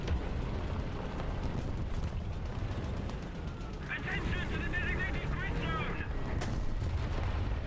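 Dense, rumbling bursts of heavy gunfire and booming cannon shots roll on continuously, with rapid machine-gun rattle layered over the din, in the tank game War Thunder.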